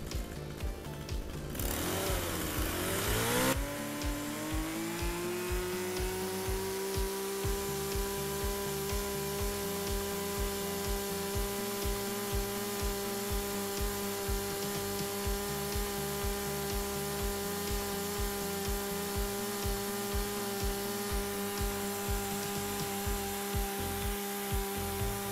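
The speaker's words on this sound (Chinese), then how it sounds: "那我们现在准备好30秒全速，好，全油门，然后30秒" A STIHL two-stroke grass cutter engine revs up, then holds a steady, loud, droning full-throttle whine close by for the rest of the clip, with no voices.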